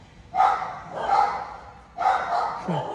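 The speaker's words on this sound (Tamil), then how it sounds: "நாய் குலைச்சிக்கிட்டே இருக்குது" A dog barks three times in short, sharp bursts at moderate distance, with a brief whimper at the end and no talking.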